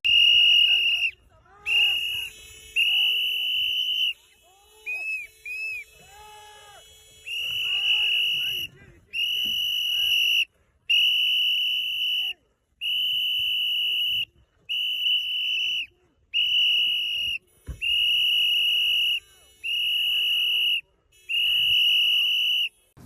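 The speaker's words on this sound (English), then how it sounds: "blowing my whistle here to disrupt them" A whistle is blown during an arrest, shrill loud blasts repeating at short intervals, some long and some clipped, with voices talking faintly in between.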